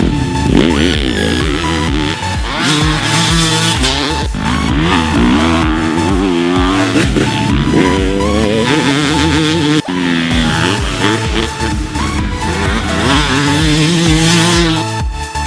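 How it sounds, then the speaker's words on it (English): Yamaha YZ250 two-stroke and YZ250F four-stroke motocross bikes out on a dirt track, engines revving and shifting loudly and continuously, with overlapping rising and falling whines from bikes passing near. "We're gonna get these bikes on the track"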